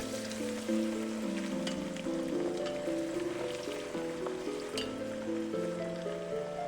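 Onions, garlic and ginger sauté in hot oil in a saucepan for a Ghanaian cheesy sausage stew, giving a steady, crackling sizzle that sits beneath a louder melodic music track throughout.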